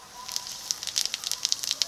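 Whole cumin, a dried red chili and a bay leaf hit hot mustard oil in a kadai, giving off a light sizzling hiss broken by quick, sharp crackles and pops that come thicker toward the end.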